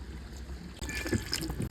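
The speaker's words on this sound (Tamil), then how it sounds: "தண்ணி சேர்த்துக்கலாம்." Water is poured into a pan of spicy chicken gravy, a short trickling pour starting partway through and running to the end, fairly faint with no talk over it.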